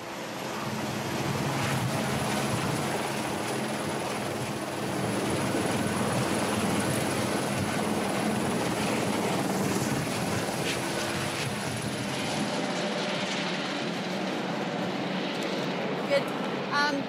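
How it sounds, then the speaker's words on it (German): A helicopter's loud, steady rotor and engine roar fills the whole stretch, close by, easing off slightly toward the end. "Der Heli kann fliegen."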